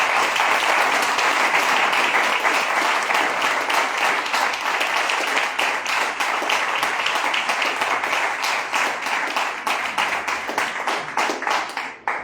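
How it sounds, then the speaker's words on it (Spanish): Steady, dense applause from a church congregation fills the space for about twelve seconds, loud and continuous with many hands clapping at once, thinning slightly toward the end. "Den una ofrenda de palmas al Señor"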